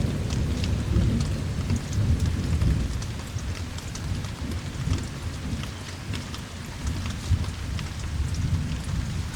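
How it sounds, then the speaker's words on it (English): Heavy thunderstorm rain pours steadily and loudly, with deep rolling thunder rumbling beneath the downpour throughout, continuous and close. "still lots of thunder, it's a big storm."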